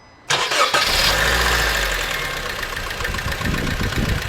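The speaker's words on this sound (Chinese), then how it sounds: "听这台车的发动机噼里啪啦直响" A car engine with a piston knocking fault, worn piston rings and heavy oil burning starts abruptly and runs at a close, loud idle, with a rapid rattling knock over the drone.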